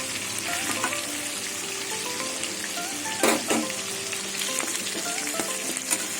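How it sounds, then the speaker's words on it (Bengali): Pieces of katla fish fry in hot oil, giving a steady, close crackling sizzle throughout with a brief burst of louder spattering partway, and no voices. "মাছ ভাজা হয়ে গেছে মাছগুলো তুলে নেব"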